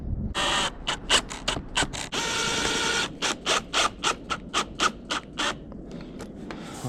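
A power driver sets screws into attic trim in a series of short whirring bursts, a longer run first and then a quick rhythm of brief pulses, close and alone.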